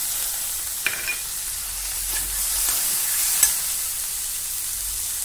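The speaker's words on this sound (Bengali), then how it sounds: "এবার আমি মটরশুঁটিটা দিয়ে দিচ্ছি।" Peas added to a half-fried cauliflower mixture in a pan, a quiet steady sizzle with a few soft stirring clinks and taps.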